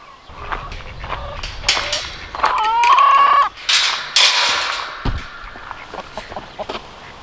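Backyard chickens cluck close by, with one long drawn-out call rising above the flock, then softer clucks and a few footsteps on the ground.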